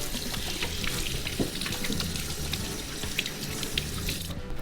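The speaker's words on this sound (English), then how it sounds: "you want to make sure you wash your hands fairly" Running tap water pours steadily into a kitchen sink while hands are washed during jerk chicken marinade prep, a close, continuous splashing and hiss with no talk.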